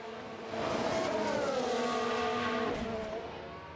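Race car engines roar in F1 Manager 2022 as Alonso's car runs on track, a sustained, fairly faint whine that rises in pitch, then eases and fades toward the end.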